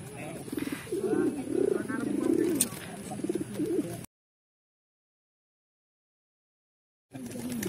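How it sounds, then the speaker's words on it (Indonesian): Low, soft cooing of racing pigeons in a loft mixed with chirps and background chatter, cutting out briefly to silence before resuming. "kalau sekarang di rumah pegang berapa merpati, Mas John?"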